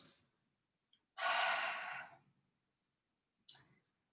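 Deep, audible breaths during a gentle shoulder stretch: a long, steady exhale of about a second stands out clearly against near silence, with a shorter breath following a little later.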